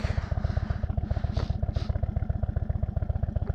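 A motorcycle engine chugs at low revs with a steady throbbing pulse as the bike rolls slowly through mud under careful brake and clutch, close and fairly loud.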